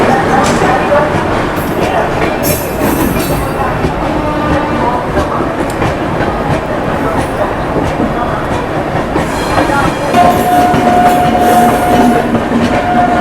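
Dehradun Shatabdi Express pulling out of Ghaziabad junction, a loud, steady rumble of rolling coaches with rhythmic clickety-clack over rail joints and a brief tonal squeal, filling the whole stretch with faint voices underneath.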